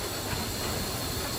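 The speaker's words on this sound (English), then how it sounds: "We're going to be going over a series of points." A steam locomotive rolls over a series of railway points, giving a steady, loud, close rush of hiss and rail rumble with only faint clicking and no talk.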